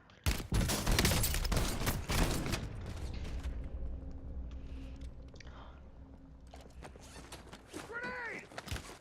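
Sniper fire in a Call of Duty Warzone match: a loud burst of shots at the start, then rattling gear, footsteps and faint game chatter as the scene settles.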